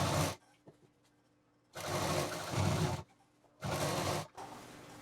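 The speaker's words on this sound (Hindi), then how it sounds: "मैं उसी लाइन के नीचे से पूरी मशीन चला के चली जाऊंगी" Electric sewing machine running a long matching-thread stitch along a seam line on fabric, heard as three loud sustained whirring bursts separated by quiet pauses, with no talking.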